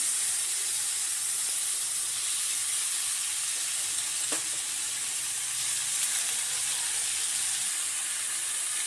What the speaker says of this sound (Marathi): आता मुगाची डाळ आपण टाकून घेतलेली आहे तर त्याच्यामध्ये टाकायचे आपल्याला मेथीची भाजी